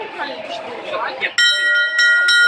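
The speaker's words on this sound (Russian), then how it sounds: "А вот колокольчик." A small bell on board the sailing ship Khersones in Yalta rings loudly and repeatedly, its bright sustained tone following moments of nearby voices talking.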